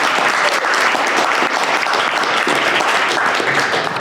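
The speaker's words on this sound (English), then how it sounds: "a huge round of applause for our contestants" Audience at a university pitch competition bursts into loud, dense applause for the contestants, a thick continuous wash of clapping hands holding steady throughout.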